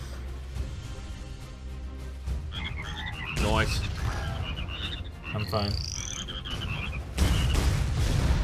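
Several loud cartoonish frog croaks and warbling sound effects ring out in a video game, mixed with bursts and impacts, while players chat casually over them.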